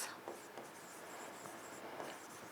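Pen scratching steadily across paper during a biology lesson, a continuous close writing sound with small strokes and pauses, no voices over it.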